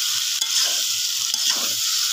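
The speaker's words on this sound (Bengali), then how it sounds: "এখন বেগুনের সাথে আলু আর মশলার সাথে সুন্দর করে আমার কষায় নিতে হবে" Eggplant and potato sautéing with spices, a steady close sizzle in the pan with two short scraping stirs of a spoon, no voices.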